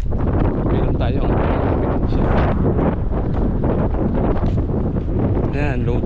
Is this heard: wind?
yes